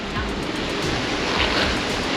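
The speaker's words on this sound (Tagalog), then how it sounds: "lakas ng hangin eh" Strong typhoon wind roars continuously into the microphone, a dense, steady rushing noise with no voices.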